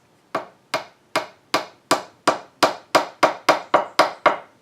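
Steady series of about a dozen sharp wooden knocks, evenly spaced and close, as small holly circle inlays are hammered into a wooden workpiece, with no talking.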